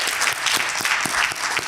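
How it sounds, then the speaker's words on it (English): An audience at a police commission technology review meeting applauds, a brief burst of steady, close clapping from many hands. "if we could give our participants a final round of applause"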